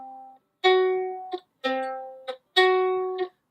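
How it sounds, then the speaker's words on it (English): A tritone interval is played on a keyboard instrument: three separate struck notes with rich harmonics, each ringing under a second before a short release click, clear and alone. "So this is a tritone."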